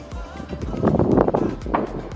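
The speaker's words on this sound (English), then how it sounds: "Excuse the wind." Gusty wind buffets the microphone outdoors beside hop plants on a cloudy day, in low rumbling bursts, swelling louder in the middle, with a few faint thumps underneath.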